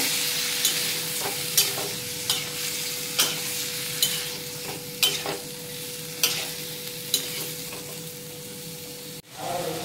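Pieces of bottle gourd frying in a hot pan, a steady sizzle broken by repeated clacks of a spatula stirring them, close and alone with no voices.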